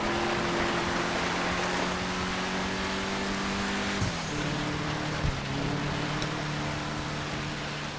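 Grotti GT500 classic sports car engine in GTA 5, a steady loud droning hum with a pitch shift and brief gear change midway, continuous and alone.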